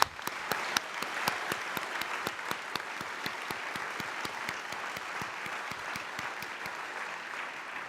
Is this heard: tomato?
no